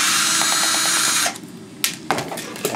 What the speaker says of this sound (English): Let's see if I can get these other screws here off.